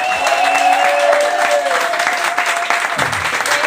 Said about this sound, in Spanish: Yo creo que se merece un aplauso del su poble.